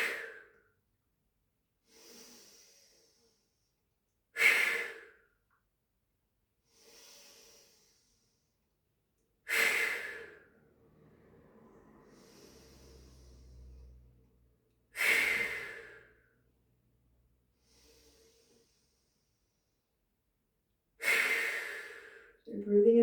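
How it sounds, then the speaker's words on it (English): A person doing a yoga breathing exercise draws deep breaths in through the nose and pushes each one out in a forceful, hissing exhale. Five sharp, loud exhales come at regular intervals, with quieter inhales between them. "we breathe in through the nose and we exhale all the air out as if we're trying to get rid of a gobstopper"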